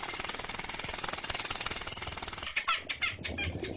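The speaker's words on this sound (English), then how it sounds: "the air-splitting 97 decibels produced by the drill" A loud, insistent jackhammer-like drill producing about 97 decibels hammers steadily, then breaks into short choppy bursts near the end.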